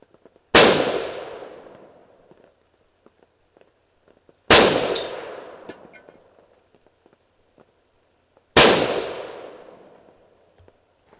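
Three loud, sharp SKS rifle shots firing 7.62x39 handloads at a range, evenly spaced about four seconds apart, each a sudden crack with a long ringing decay, with faint handling clicks between.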